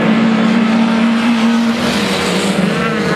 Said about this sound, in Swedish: Niklas Sandström får bekymmer med sin BMW